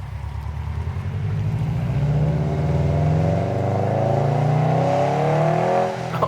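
A Subaru STI with a louder modified exhaust pulls away, its engine revving and climbing steadily in pitch as it accelerates, loud and close with a rough, throaty tone and no talking.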